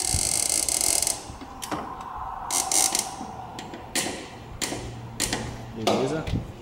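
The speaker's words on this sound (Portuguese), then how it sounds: "vamos dar o torque aqui do parafuso principal aqui do tensor" Torque wrench tightening the main belt tensioner bolt on a Toyota Corolla to 69 Nm, giving a few ratcheting clicks and mechanical taps spread over several seconds at close range.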